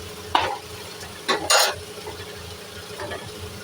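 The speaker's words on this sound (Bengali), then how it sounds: "এখানে আলু ভাজাটা হচ্ছে।" Cut potatoes fry in a pan with dried red chilli, bay leaf and cumin under a low sizzle, while a spatula stirs and scrapes against the pan in a few short, sharp bursts.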